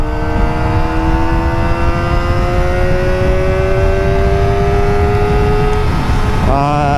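A Modenas ZX-25R motorcycle engine holds a loud, steady high-RPM whine whose pitch climbs slowly, then drops and revs back up near the end; a faint voice sits underneath.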